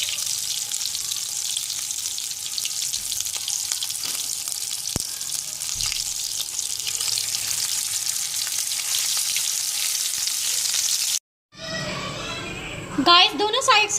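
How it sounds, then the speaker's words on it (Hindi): Mutton chops fry in hot oil with a steady, loud crackling sizzle that runs for about eleven seconds, then cuts out briefly before a voice is heard over the frying. "और गरम ऑयल में मैं ये चांपों को डिप कर दूंगी। इसे फ्राई होने के लिए रख देंगे"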